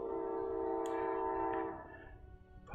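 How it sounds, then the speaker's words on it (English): A passing train sounds a long, loud, steady horn blast that fades after a couple of seconds into rumbling rail noise, with no talking. "Pausing for the train."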